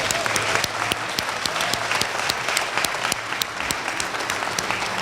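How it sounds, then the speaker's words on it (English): A large audience at a mayor's State of the City address breaks into loud, sustained applause, dense clapping filling the room without pause. "Let's give her another round of applause."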